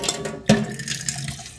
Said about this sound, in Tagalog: hugasan ko itong baso